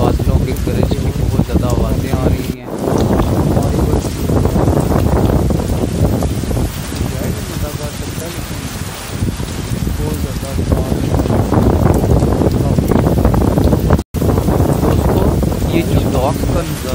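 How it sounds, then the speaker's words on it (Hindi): Heavy rain and strong wind lash the docks in stormy weather, a loud, steady roar of gusts buffeting the microphone with rainfall beneath, continuous for the whole stretch apart from one brief dropout. "यहाँ पे आप देख सकते हैं कितनी तेज़ बारिश हो रही है और कितनी तेज़ हवाएं चल रही हैं।"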